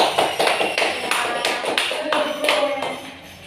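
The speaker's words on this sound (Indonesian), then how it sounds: "beri tepuk tangan untuk Hanif" A school class claps for a classmate during a mathematics lesson, with distinct, irregular bursts of hand claps and taps. Some voices can be heard faintly underneath, and the clapping tapers off at the end.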